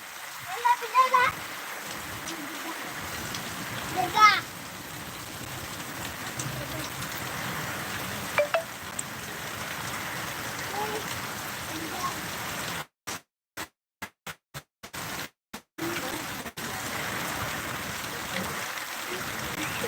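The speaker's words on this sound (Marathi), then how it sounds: "जोराची हवा आणि तुफान पाऊस" Heavy rain with strong wind pours down in Mahagaon village, Kinwat taluka, Nanded district, a dense steady hiss with a few louder splashes and brief dropouts.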